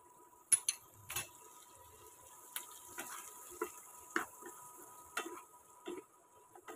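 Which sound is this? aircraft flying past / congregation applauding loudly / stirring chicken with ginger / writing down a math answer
stirring chicken with ginger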